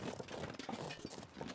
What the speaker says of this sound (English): the sound of the rocks rolling after you throw them, it always sounds like footsteps